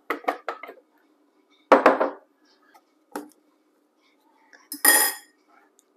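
Bananas dropped into a food processor blender, heard as a few separate close clinks and knocks with quiet gaps between them.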